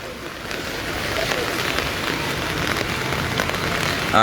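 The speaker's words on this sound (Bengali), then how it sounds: "সকাল থেকে ভারী বৃষ্টি মানে প্রচুর ভারী ভারী বৃষ্টি" Steady, dense heavy rain hisses and patters on a hard surface in Digha's streets, continuous and fairly loud throughout.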